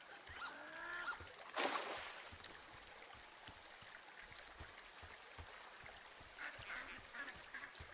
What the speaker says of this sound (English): The ducks really don't like me here.